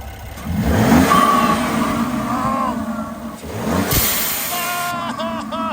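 A RAM SST Hurricane truck engine revs with a UGT blow off valve, heard from outside under the hood: loud surging engine roar with whooshing releases, while people talk and whoop over it.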